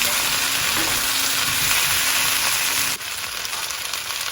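Onions, cauliflower and chopped chilli fry in a pan for a vegan curry, a loud, steady hissing sizzle that drops slightly in level near the end, close and without talk.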